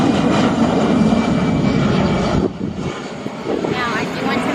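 Airplane flying low near Montego Bay airport beside a Jamaican resort, a loud, broad roaring engine rumble that eases slightly partway through, with a person talking over it.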